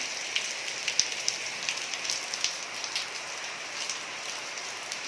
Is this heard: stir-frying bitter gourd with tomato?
no